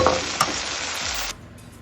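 Food sizzles and crackles in a hot pan with a couple of stirring clinks, loud and close, then the sizzle drops away.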